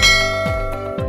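A notification bell sound effect chimes loudly, a bright metallic ring that strikes three times in about a second, each hit followed by a ringing sustained tone.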